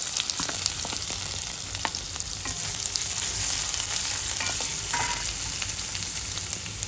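Finely chopped medium onion and cumin seeds fry in oil for a Khandeshi ridge gourd bharit, a dense, continuous sizzle with occasional small clicks of stirring, steady and close, no voices.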